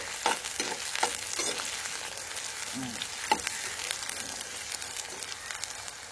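About 50 grams of onions and two green chillies frying in a pan for a tapioca root fry, a close steady sizzle punctuated by spatula stirs and scrapes, no voices.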